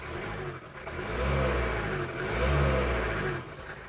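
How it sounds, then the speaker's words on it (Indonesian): A diesel Daihatsu Rocky engine runs at a steady idle just after starting, a continuous low rumble with a slight rise and fall in level, close and fairly loud with no talking. "starternya enak sekali bosku tidak berat untuk RPM normal stasioner normal ya"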